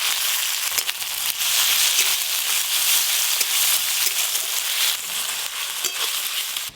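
Chopped onions with ginger-garlic paste frying in hot oil with whole garam masala tempering, a steady loud sizzle with occasional stirring clicks, no voices.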